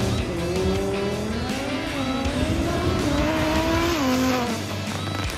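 A modified car under test makes a loud, continuous engine roar as it accelerates, the pitch climbing steadily across several gear pulls, with tire and road noise mixed in and no talking.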